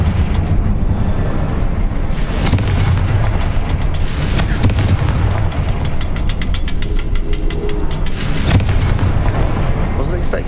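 Confringo blasting spell explosions in the video game Hogwarts Legacy, heavy booms and crackling bursts landing at intervals over a dense, continuous rumble of combat sound, loud and near.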